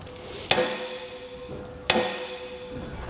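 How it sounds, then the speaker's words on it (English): A hole punch struck twice with a hammer while centred in the hole of a Roadmaster EZ base plate on a 2015 Smart fortwo, two sharp metallic blows with ringing decay, about a second and a half apart. "Next, I'm going to take a hole punch."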